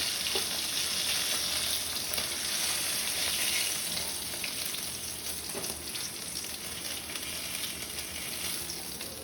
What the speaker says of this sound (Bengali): এই তেলে আমি সবজিগুলো ভেজে নেব প্রথমে সবজিটা ভেজে নেব